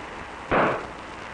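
An explosion tube fires off when a static electricity spark jumps between its ball terminals, giving a single short, loud pop that dies away quickly over a steady background hiss.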